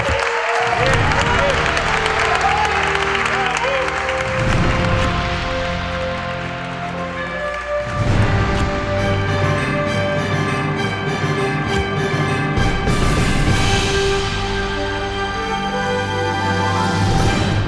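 Audience applause for four women receiving guide dogs, including a 16-year-old girl, at a handover event in Argentina; steady clapping mixed with music and talk over most of the stretch, briefly easing then swelling again.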